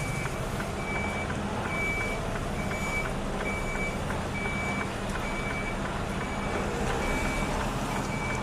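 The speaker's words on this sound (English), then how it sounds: "Make sure I missed that truck behind me." A truck's reversing alarm beeps at a steady, regular pace over loud, continuous engine rumble and road noise nearby.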